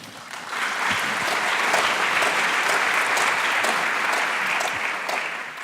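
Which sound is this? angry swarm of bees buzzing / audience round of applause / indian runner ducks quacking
audience round of applause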